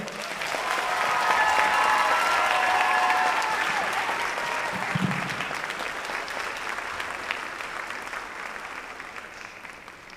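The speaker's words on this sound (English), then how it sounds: "Please give a round of applause for Paul." A crowd at a high school benefit concert applauds for a performer taking the stage, the clapping swelling early and then slowly thinning over ten seconds, with a faint voice briefly heard.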